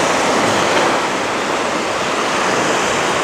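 Steady ocean surf washing on a beach, a continuous broad roar with slight wind noise on the microphone and no talking.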